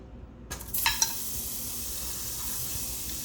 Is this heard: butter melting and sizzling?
yes